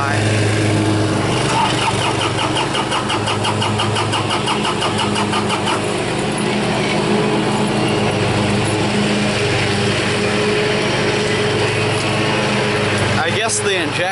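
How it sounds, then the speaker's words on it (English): John Deere tractor with a diesel engine that sometimes hesitates to start, cranking with a rapid rhythmic chug for several seconds before catching and settling into a loud, steady running rumble close by. "I'm trying to get the John Deere started here."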